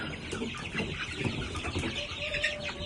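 Chickens cluck softly inside a homestead coop, a scatter of short, quiet clucks and chirps close by with no one speaking.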